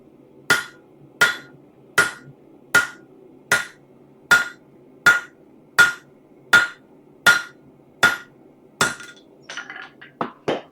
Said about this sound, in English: Drop forging.